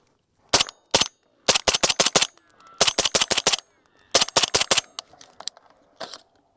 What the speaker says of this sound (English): now let's fire some Rattler ammo